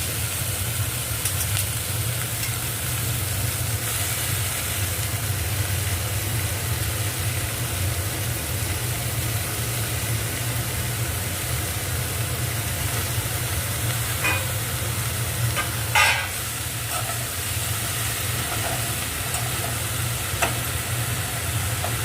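Pea greens and lata fish cook together in a pan, giving a continuous dense sizzle with occasional faint stirring scrapes, steady and close throughout, with no voices.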